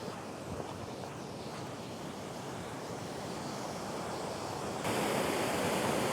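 Waterfall at Glencoe, Scotland, a steady broad rush of falling water with some wind, growing slightly louder and brighter toward the end.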